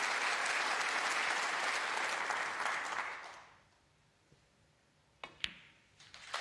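Loud sustained audience applause at a UK Championship snooker match fades away after about three seconds, leaving near quiet broken by a few sharp ball clicks.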